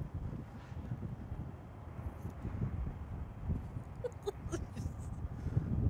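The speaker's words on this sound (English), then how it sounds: "Wind. I hate the wind." Outdoor wind blows across the microphone in a continuous low, gusty rumble that swells and buffets, with faint scattered knocks and no speech.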